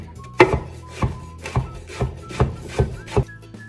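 A knife slices an eggplant into thin strips on a cutting board, with about eight crisp, evenly spaced cuts in a steady rhythm, close and distinct against a quiet kitchen.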